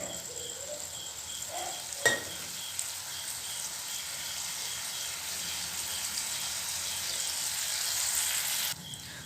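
Ginger-garlic paste sizzling in a pan for an Assamese curry, a soft, even frying hiss that carries on steadily from start to finish, with a single sharp knock of a utensil early on and no voices.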